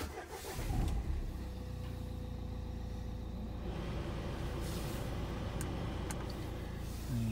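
An automatic Renault Grand Scenic Expression with 65,000 miles fires up from its push-button start with a key card in the slot. A short cranking burst is followed by a steady, moderately loud idle.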